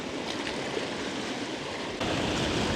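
Choppy open-sea waves around a small fishing boat, a steady, faint wash and slosh of water with wind, growing louder near the end, with no voices.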